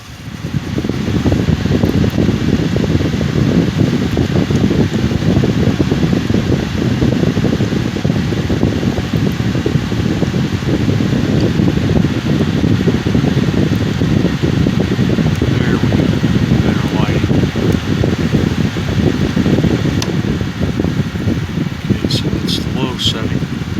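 A 2022-23 Media MAWO5M1WBL window air-conditioning unit running on its high cool setting gives a steady, loud fan whoosh with a low mechanical hum that holds constant throughout, with a few faint ticks near the end.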